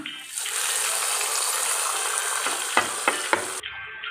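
Cashews and raisins frying in a pan for jaggery aval payasam give a steady, loud sizzle. A few sharp stirring clicks come near the end, with no talk.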